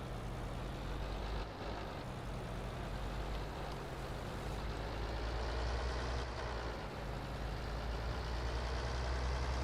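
A big tractor engine idles in the Farming Simulator 22 video game, a steady low rumble with a constant drone that holds evenly throughout, loud and close with no talking.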